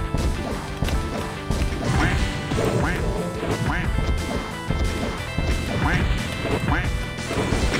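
Ducks quack repeatedly in a Doom mod video game, mixed with loud crashes, thuds and weapon impacts while someone talks over the noisy action.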